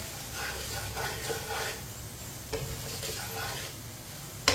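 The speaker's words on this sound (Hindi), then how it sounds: "आप देख सकते हैं मसालों को 1 मिनट के लिए मैंने पका लिया है" Spices fry softly on a low flame in a pan as a spoon stirs them, giving a steady faint sizzle with gentle scraping strokes and a sharp click near the end.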